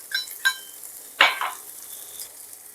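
Spices sautéing in a pan for koi fish curry with potato, beans and lentil dumplings, a soft sizzle with a few quick spoon scrapes and taps close by, no talk.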